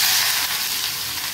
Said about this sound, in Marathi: चला आता कांदा टाकते बघा